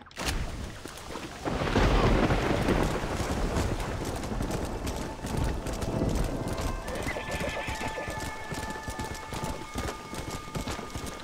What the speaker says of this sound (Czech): Jak tady prší a všechno.